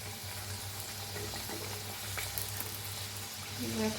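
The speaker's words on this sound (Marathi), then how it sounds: "तेल ठेवले बघा, गरम झाले तेल, त्याच्यात सोडते।" Karanji pastries deep fry in hot oil with a close, continuous sizzle and fine bubbling crackle, a low steady hum beneath and faint stirring near the end.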